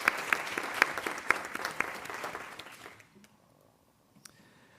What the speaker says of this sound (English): Everyone, please join me in congratulating the Martin County School District with a round of applause.